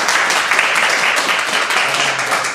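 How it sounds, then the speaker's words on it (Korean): A crowd applauds at a fight event just before round one of a bout between a North Korean defector fighter and a gym owner. The clapping is dense and steady throughout, with faint voices underneath. "박수 한번 주세요."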